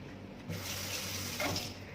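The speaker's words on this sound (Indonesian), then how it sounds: "pastikan air mengalir" Water runs steadily from a tap for surgical hand washing before an operation, a continuous close hiss of flow with a slight surge near the middle, no voices.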